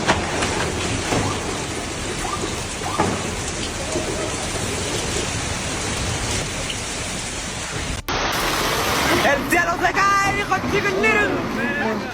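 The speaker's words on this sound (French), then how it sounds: "La nature et sa puissance terrifiante lors de la tempête à Cuatro le 1er août." Violent storm on 1 August with heavy rain pounding surfaces and rumbling thunder, a dense loud roar throughout that cuts abruptly and resumes with crowd babble and voices under the downpour.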